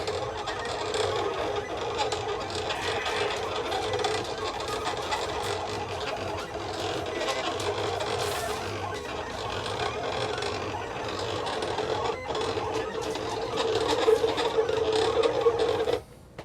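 A cutting machine cuts a design for sublimation on a black shirt, producing a continuous mechanical whir and ratcheting motor drone at steady loudness, with brief faint background chatter.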